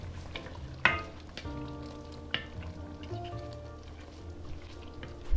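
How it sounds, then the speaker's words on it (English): Diced zucchini dropped into a simmering jackfruit curry, a soft crackling sizzle with a few sharp clinks and taps of a utensil against the pot, close and quiet without speech. "We're going to now add in that zucchini that I diced up."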